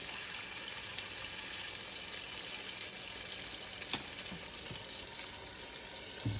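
A pork chop sizzles in a frying pan with a steady, fairly loud crackle and hiss, broken by a few small pops and clinks near the end. No voices.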